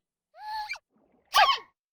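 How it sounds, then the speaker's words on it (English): A Minecraft baby panda's squeaky wheezing inhale followed by a quick, sharp little sneeze, close up. "A baby panda being about to sneeze and sneezing."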